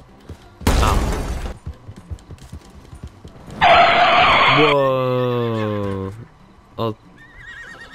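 A horse in Red Dead Redemption 2 gives a loud, wavering whinny after a burst of skidding and scraping, followed by a short snort; a player's voice exclaims briefly early on.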